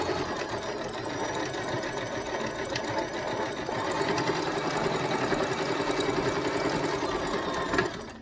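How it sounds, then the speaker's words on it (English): A sewing machine stitches the seam of a fabric face mask, a steady fast mechanical whir that speeds up slightly partway through, close and continuous with no talking. "So we're going to go ahead and sew that now that the bottom is pinned."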